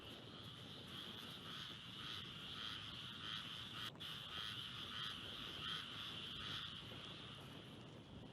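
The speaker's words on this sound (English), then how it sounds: "I want you to hear the frogs here." Frogs croak in a steady, dense chorus during a hurricane nearing landfall, under a constant rush of wind noise, with one brief click partway through.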